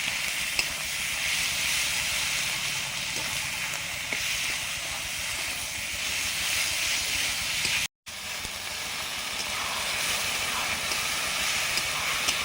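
Spice masala with tomato and water frying in a pan, a steady broad hiss and sizzle running loud and unbroken, with only a brief drop near the end.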